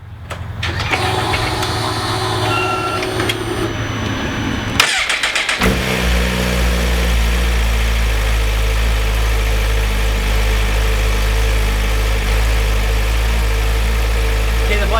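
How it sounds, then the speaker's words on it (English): A 2017 Suzuki GSX-R1000R sport motorcycle engine fires up and settles into a loud, steady idle with low rumbling, followed by throttle blips that raise the revs briefly. "I'll walk to the throttle and we can hear the engine."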